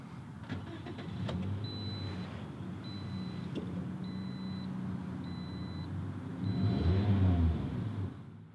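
A 2018 Toyota Yaris LE engine starts and settles into a steady idle rumble, with a row of repeated high dashboard chimes, then a short louder surge toward the end, heard close and alone without talk.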